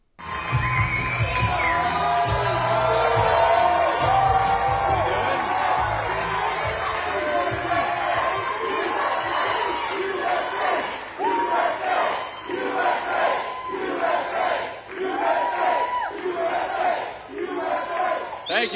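A large rally crowd in North Carolina cheers and chants for Vice President JD Vance, a loud, continuous roar that later breaks into rhythmic chant-like pulses, with someone speaking over it.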